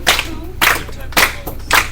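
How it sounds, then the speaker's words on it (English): A class clapping hands together in an even, steady beat during a music appreciation lesson, with four loud, roughly evenly spaced claps heard close by and no talking. "Try this with me, just clap here."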